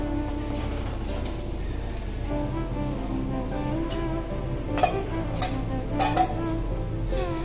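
Chicken with masala is stirred in a cooking pot in a hostel kitchen, a steady scraping of the utensil against the metal with occasional clinks, close and fairly loud over a low background hum.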